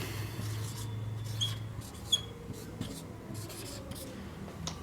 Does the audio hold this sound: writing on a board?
yes